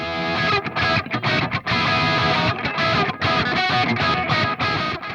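Electric guitar played through a Seymour Duncan Warren DeMartini RTM signature humbucker with smooth, heavy distortion and bright top end, a loud continuous riff with short choppy breaks.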